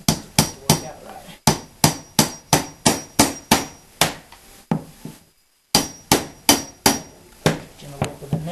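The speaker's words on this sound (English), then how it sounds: "So I will do that now with Hammers a right there." Two hammers prying off a strip in a bathroom restoration, a rapid run of sharp, close metallic blows in a steady rhythm, pausing once briefly before the strikes resume.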